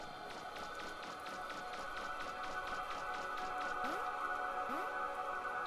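Rain falls in a steady wash in a video game while quick, rhythmic footfalls patter through it, and a couple of short rising tones sound near the end.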